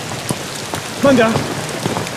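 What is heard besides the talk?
heavy rain falling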